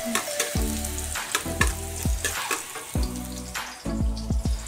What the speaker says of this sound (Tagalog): Gigisa natin yung sayote. Ilagay natin yung bawang.